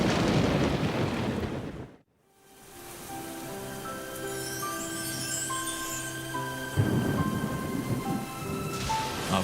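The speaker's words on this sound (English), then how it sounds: "the animals of the high country now find themselves lashed by storm and heavy rain" A thunderstorm lashes high country with heavy rain: a dense roar of rainfall and rumbling thunder that cuts out abruptly, then slowly returns under sustained tones before the downpour swells again near the end.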